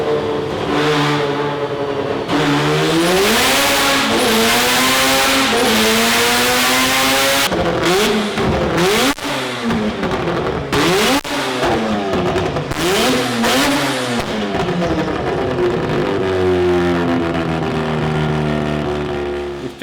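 A Mazda RX7 engine, just repaired after an overboost problem, revs up and down repeatedly, loud and close, with rising and falling engine notes and no talking.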